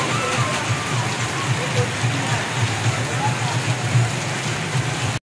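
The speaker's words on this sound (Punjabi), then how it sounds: "ਹੁਣ ਫਿਰ ਬਾਰਿਸ਼ ਸ਼ੁਰੂ ਹੋ ਗਈ ਹੈ" Rain pours down steadily outdoors, a close, dense hiss of drops on surfaces that holds at an even level without pause before cutting off abruptly.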